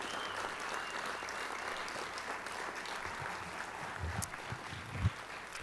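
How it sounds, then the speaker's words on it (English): A crowd in a school hall applauds the football team at a high school hall of fame induction ceremony, with steady, fairly distant clapping, a few louder close claps and low murmuring beneath. "Let's give them all a round of applause."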